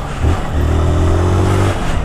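A new yellow 2022 Honda Titan motorcycle leaving the dealership revs up close, its mid-pitched engine note rising and holding steady for over a second before dropping back.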